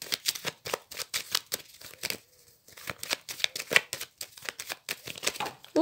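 Tarot cards are shuffled and cut on a tabletop in quick rhythmic bursts of riffling and slapping, close and crisp, with one brief pause midway.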